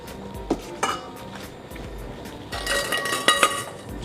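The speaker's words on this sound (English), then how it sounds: "Just give this a little stir." Aromatic vegetables and cauliflower for a plant-based corn chowder stirred in a pot, with light spoon scrapes and clinks building into a brighter clatter of utensil against metal toward the end.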